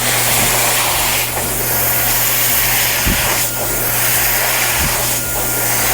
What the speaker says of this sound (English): keep them dried as well with the classic, everybody's favorite Dyson home dryer